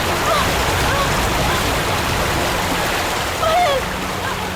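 A waterfall rushes in a steady broadband wash of falling water, loud and continuous, while voices speak over it.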